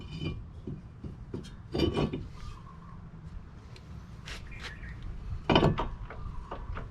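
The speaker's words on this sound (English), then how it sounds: "Installing the new rotor." A new brake rotor being fitted onto the hub of a 2005 Toyota Camry: quiet metallic clinks, scrapes and a couple of sharper knocks as the rotor slides into place, close by in a calm workspace.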